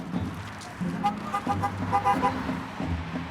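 Car horns from passing roadside traffic give several short toots and honks over a steady wash of vehicles going by, with faint voices nearby.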